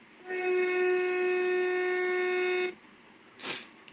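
In Train Sim World, a single loud, steady horn blast from a class 166 train holds for over two seconds, then cuts off, followed by a short hiss of air.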